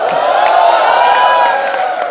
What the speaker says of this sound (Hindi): नरगिस के लिए एक बार जोरदार तालियां हो जाए।